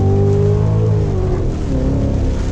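A Cadillac CTS-V engine roars loudly and continuously as the car accelerates in a thunderstorm, its pitch climbing, then dipping at a gear change before it rises again.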